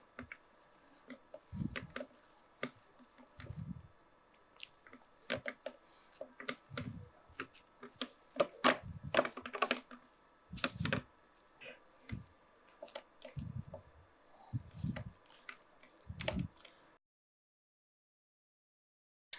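Coriander leaves being mixed by hand into a bread filling for fried Indo Korean bread, with wet squelching, squishing squeezes and small clicks in an irregular rhythm, close and quiet, then silence at the end.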